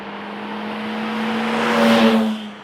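A BMW E30 325i drives past close by, its engine tone rising and swelling to a peak before easing away, loud and steady with no talking.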